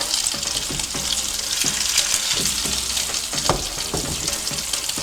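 Macedonian-style fried vegetables sizzling in a pan, a dense continuous crackle and spatter with small clicks of turning and stirring, close and loud, no talking.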